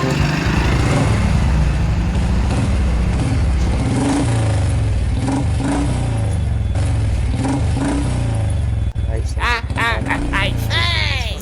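A motorcycle engine runs loud and close with a steady throb and several revs, while voices talk over it and shouted speech breaks in near the end.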